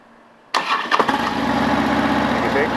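A 2009 Harley-Davidson Road King FLHR motorcycle cranks over with a few chugging turns and catches, settling straight into a loud, close, lumpy idle.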